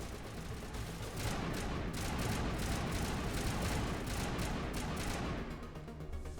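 Rapid gunfire in a Mass Effect firefight against a Geth Prime, dense continuous bursts of shots, loud and close, alone without talk.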